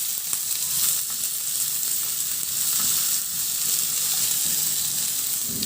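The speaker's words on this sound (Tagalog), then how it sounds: "Ihalo lang din hanggang sa maluto at isabay ko na rin halo yung pork limpo" Onion and pork sizzling in a hot pan while being stirred, a loud, dense, continuous hiss of frying close up, with faint scrapes and taps of the spatula mixed in.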